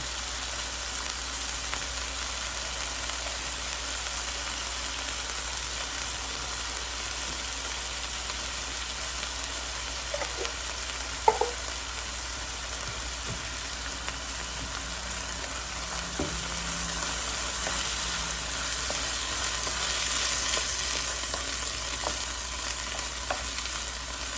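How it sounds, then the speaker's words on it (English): Black beans frying and stirred in a pan for spicy Dorito tacos: a steady, even sizzle runs throughout, with a few faint scrapes and clinks of stirring on top. "So we want this to cook for a little bit, and then we'll add our black bean."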